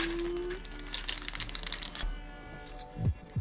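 Keycaps are pressed onto a mechanical keyboard in quick clustered clicks and taps close by, followed by a few sharper plastic knocks.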